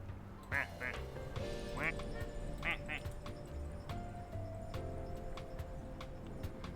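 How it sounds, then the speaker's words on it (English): Repeated nasal quacks from ducks picked up in a video game come in short bursts over a steady game soundscape with a low musical drone. "So, I just got some free ducks"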